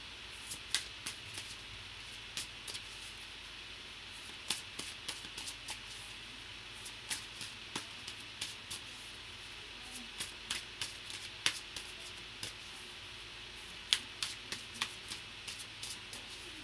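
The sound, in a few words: shuffling tarot cards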